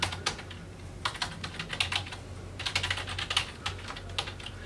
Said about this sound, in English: And what I'm doing is typing